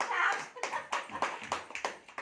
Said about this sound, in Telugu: కన్నయ్య క్లాప్స్.